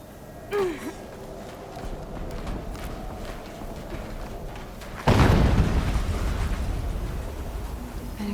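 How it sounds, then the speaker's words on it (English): An explosion in Horizon Zero Dawn Remastered lands as a sudden loud broadband boom about midway, then a sustained rumbling roar, following quieter game ambience with scattered thuds. "An explosion."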